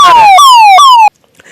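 An ambulance siren on a damaged road in Dhoraji, Gujarat: loud, close, repeated falling wails in short cycles that cut off sharply, followed by faint background noise.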